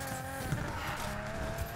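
A car sliding in the racing video game Need for Speed Payback, a steady engine drone with rising tonal whine and brief low scuffs, continuous and fairly close, no talking.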